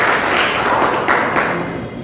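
An audience at a school road-safety quiz competition gives loud, close applause, a thick burst of many hands clapping that holds steady, then thins slightly toward the end.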